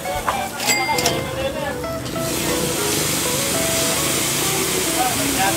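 A flaming fire pork dish is presented at a restaurant in Panglao, Bohol, giving a steady loud hiss and spray-like roar of flame that builds and holds, with a few clinks and voices early on.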